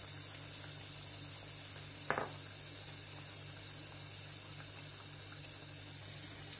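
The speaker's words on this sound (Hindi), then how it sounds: "हम समोसों को लो फ्लेम में फ्राई करेंगे जिससे अच्छी तरीके से फ्राई हो जाए।" Samosas deep-frying in oil over a low flame, giving a steady, faint, even hiss with a single brief splash of sharper crackle partway through.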